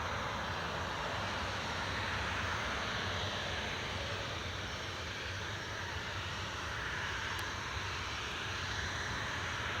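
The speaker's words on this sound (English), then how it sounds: "Got the Emirates just about to come in to land on runway 25" An Emirates airliner approaching to land on runway 25 at Newcastle International Airport produces a steady broad engine rumble and rushing roar, moderately distant and continuous.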